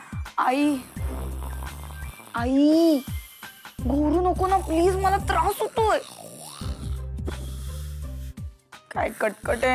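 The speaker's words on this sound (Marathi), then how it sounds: "आई आई, घोरू नको ना प्लीज, मला त्रास होतोय।" A mother snoring heavily while asleep, deep rasping breaths repeating every couple of seconds, close and loud, with voices heard alongside.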